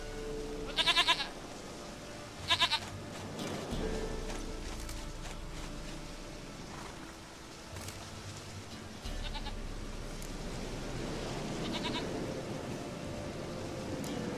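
A goat in The Witcher 3 bleats in a few short, wavering calls, two sharp ones close together early and fainter ones later, over steady game ambience.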